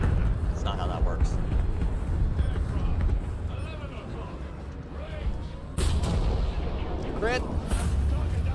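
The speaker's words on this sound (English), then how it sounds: "Oh, artillery fire." Artillery fire in the War Thunder tank game, a heavy continuous rumble with booming hits, including a sharp loud burst partway through, heard under someone talking.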